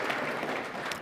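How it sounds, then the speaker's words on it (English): Brief clapping from a panel audience at a Holocaust education event, a short, soft burst of applause without speech. "Deserving of applause."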